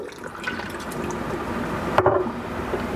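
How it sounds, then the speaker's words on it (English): Half a cup of lemon juice poured into a pot for canning, a steady close liquid splash and trickle with a sharp clink partway through, no voices. "add 1/2 cup of lemon juice"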